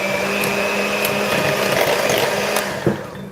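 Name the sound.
handheld mixer beating pumpkin spice donut batter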